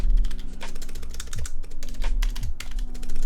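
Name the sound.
rattly keys being pressed on a Norbauer Heavy 9 keyboard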